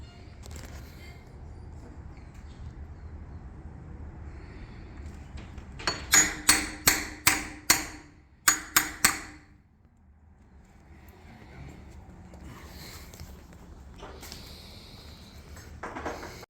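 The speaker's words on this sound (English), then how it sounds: "Okay, now he'll chisel that out." A chisel cutting out wood for a new garage pedestrian entry door, struck in two quick bursts of about eight sharp, ringing blows over a few seconds, fairly close, between stretches of quiet room noise.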